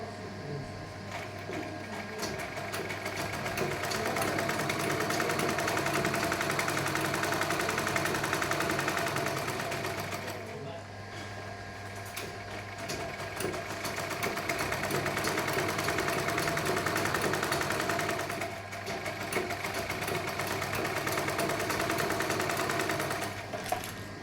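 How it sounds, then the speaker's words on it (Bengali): A sewing machine stitches the side seams and neckline of a kurti at home, a loud, close motor hum with rapid needle clatter running in long bursts separated by brief pauses. "তাই কুর্তিটা এখন সেলাই করে নিচ্ছি"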